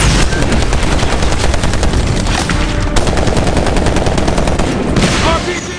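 Dense, loud gunfire and explosive blasts from RPG launchers fill the Medal of Honor Warfighter campaign, with rapid machine-gun bursts rattling continuously throughout.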